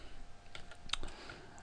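Computer keys clack in a short run of separate taps as C++ code is typed, near and fairly quiet, with no voice.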